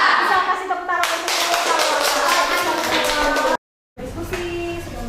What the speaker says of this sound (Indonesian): Bisa kasih tepuk tangan untuk